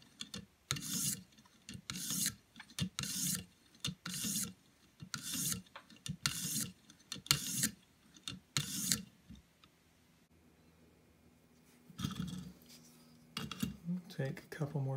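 Knife blade stroked across a 1200 grit sharpening stone for cleanup passes, giving a steady run of rhythmic rasping strokes, close and moderately loud, then a pause and a few softer, irregular scrapes near the end.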